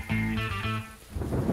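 Heavy rain pours in PUBG during a thunderstorm, a dense wash of hiss that swells toward the end after a short stretch of tonal game music above it.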